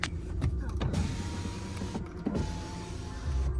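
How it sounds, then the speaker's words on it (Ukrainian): Electric power windows of a Volkswagen Passat B7 2.0 TDI with automatic gearbox whir steadily inside the car, a continuous motor hum with brief clicks as the glass starts and stops, close and fairly loud with no talking. "склопідйомники працюють"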